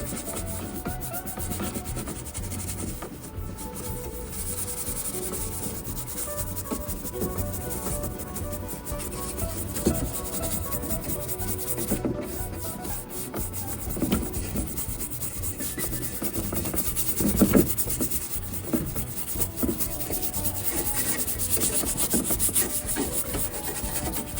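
A detailing brush scrubs a grimy car center console, likely from an IROC, making a steady close rubbing and scratching sound that runs without a break and with no talking.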